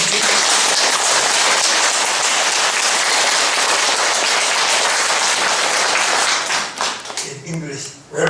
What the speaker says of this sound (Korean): 큰 박수 한번 치고.